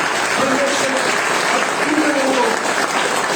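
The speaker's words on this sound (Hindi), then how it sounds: "जोरदार ताली बजा कर यीशु मसीह का धन्यवाद करें" Church congregation clapping loudly in thanks during a Hindi-language Christian worship service, a dense burst of applause throughout with a voice speaking over it.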